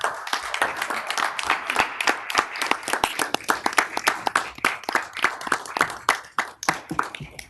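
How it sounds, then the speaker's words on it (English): A Memphis City Council chamber audience gives a round of applause, steady rapid clapping from many hands that fades toward the end. "Could we all stand to give Chairman Colvett a round of applause for a job well done?"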